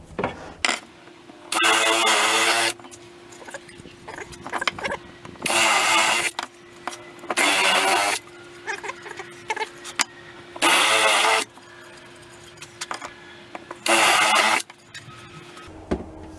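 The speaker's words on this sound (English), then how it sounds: "So I'll just drill these holes now." A power drill whines through five short bursts of about a second each, drilling holes in wood, with quiet pauses and faint handling noise in between, close by.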